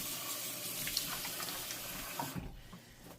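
Tap water runs steadily into a kitchen sink while dishes are rinsed by hand, a close hissing stream that cuts off near the end, leaving faint clinks and drips.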